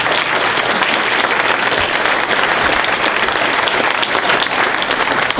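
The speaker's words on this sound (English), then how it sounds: "let's give another huge round of applause to the award recipient" Sustained, dense applause from a conference audience honoring an award recipient, loud and steady throughout with no talk over it.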